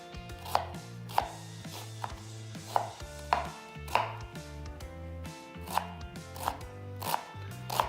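Sharp knife chops strike a cutting board while dicing an onion, in an uneven rhythm, about a dozen crisp thuds, close by, with soft background music underneath.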